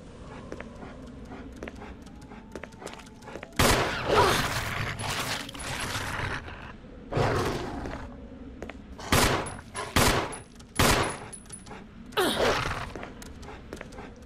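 In Resident Evil HD Remaster, gunshots crack out in loud, irregular bursts while attacking dogs pant and snarl beneath a low ambient game background.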